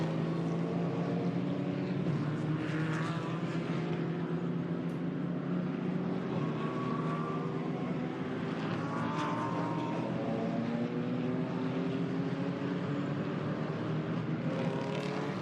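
GT4 race cars speeding around the Nürburgring circuit, a continuous droning engine roar with rising and falling pitch as the cars pass, steady and fairly loud with no talk.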